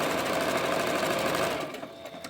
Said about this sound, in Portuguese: é só uma costura reta